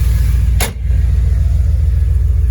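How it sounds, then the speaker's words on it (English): A pickup truck with a 6.0 Vortec engine runs steadily at close range, a constant low rumble and hum broken once by a short, sharp thump. "This truck tows pretty good and don't really have many issues."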